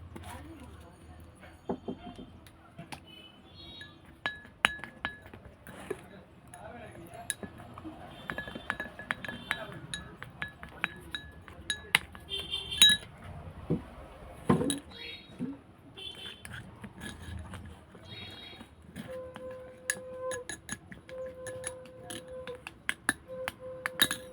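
A spoon clinks and taps against a small bowl while cornflour and honey are stirred together, irregular scraping and knocks under a voice speaking throughout.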